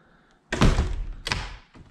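An apartment door swings shut with a solid thunk, followed moments later by a second sharper knock as the lock is turned, both close and loud in a quiet room.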